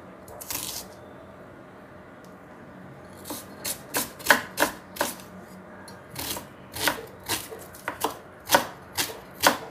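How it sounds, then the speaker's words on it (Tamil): Knife chopping half a cauliflower and a medium onion into small pieces on a board: a burst of quick cuts early, then a run of distinct sharp chops in steady rhythm, close and crisp with no talking. "அப்படி சின்னதாக வெட்டி கொள்ளணும்."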